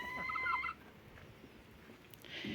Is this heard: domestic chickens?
yes